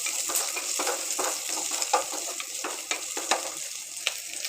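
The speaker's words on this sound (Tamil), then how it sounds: "கூடவே சின்ன வெங்காயம், நீள்வாக்கில் கட் பண்ண பச்சை மிளகாய் சேர்த்து நல்லா வதக்கி விட்டுக்கலாம்." Shallots, slit green chilies and curry leaves sautéing in a pan, giving a steady close sizzle with repeated scraping stir strokes in an uneven rhythm, no voices.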